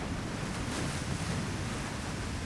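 A constant, dense rush of fast-flowing water pours over small waterfalls in a steep mountain valley stream in Jirisan, loud and unbroken throughout.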